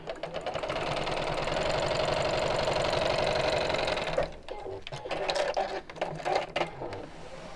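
A sewing machine stitches two pieces of fabric together, running in a loud, steady mechanical whir for about four seconds before stopping, followed by quieter handling noises.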